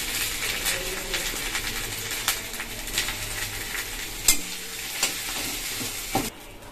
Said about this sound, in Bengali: মশলাটা আমি এখন লাল লাল করে ভালো করে ভেজে নেবো